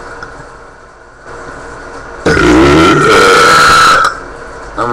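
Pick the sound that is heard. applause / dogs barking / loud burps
loud burps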